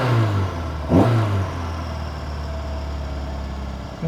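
Close-up engine note from a Citroën AX Sport with a 1.3 liter engine and twin Solex carburetors, giving a sharp rev blip before falling back to a steady, throaty idle, loud and with no one talking.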